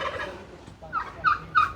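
Close fowl calling in a few quick, warbling bursts that grow louder toward the end, with no talking.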